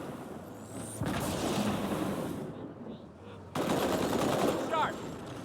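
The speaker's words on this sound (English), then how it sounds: "Grenade! Grenade." Grenade blasts and rapid gunfire from Halo 2 co-op on Legendary, in two loud dense bursts with a quieter gap between them and voices shouting over the combat.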